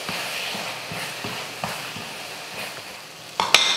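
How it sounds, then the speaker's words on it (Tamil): A steady, soft sizzle of tomato thokku masala sautéing in a pan, with light scraping and stirring taps, and a brief louder clatter near the end. "இப்போ இதை மசாலா போட்டு நல்லா வதக்குவோம்."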